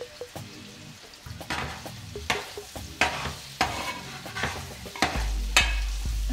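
Spices, including garam masala and turmeric, fry in a pan while being stirred, the spoon striking and scraping in regular strokes about every second over a soft sizzle.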